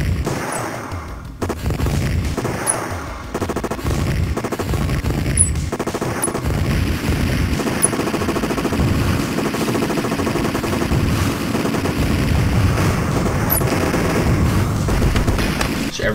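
A light gun video game running on RetroPie lets out loud, continuous rapid gunfire with booming shots that barely pause over the whole stretch.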